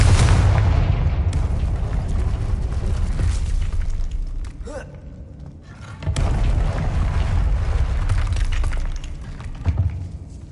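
A Confringo spell blasts in Hogwarts Legacy, a loud booming explosion with crackling debris that fades, followed by a second rumbling burst, with game sound around it.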